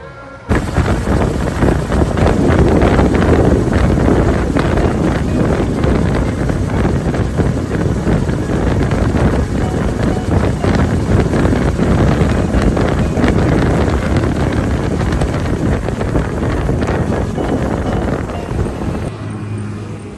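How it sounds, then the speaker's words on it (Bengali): Wind and waves on Tajpur sea beach make a steady, loud, broadband roar that holds for the whole stretch, with gusts buffeting the microphone and no talk. "এই যে তাজপুর সমুদ্র সৈকত এটা"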